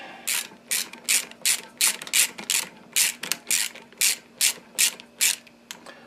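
Ratchet wrench tightening bolts on a Kawasaki 750 two-stroke engine, about sixteen quick clicking bursts in a steady back-and-forth rhythm, close and fairly loud with no talk.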